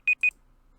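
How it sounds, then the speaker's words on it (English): A Chrome browser alarm timer sounds two short, loud, clean beeps in quick succession, then falls silent. "That's our alarm."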